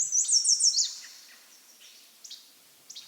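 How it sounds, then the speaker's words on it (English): An American goldfinch gives a whiny, rising call outdoors in the early morning, a quick run of bright repeated notes followed by a few softer, spaced chirps in a quiet setting. "An American goldfinch is making her whiny call"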